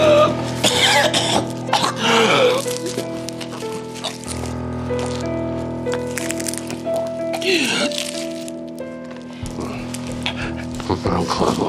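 A man in a Chinese period drama coughs in several harsh bursts, mixed with spoken dialogue over a sustained, droning musical backdrop.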